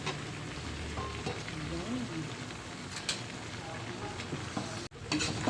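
Adobong pakbet with squash and bitter gourd stir-frying in a pan, a constant close sizzle with scraping and stirring clatter throughout, under a voice talking, with a brief dropout near the end.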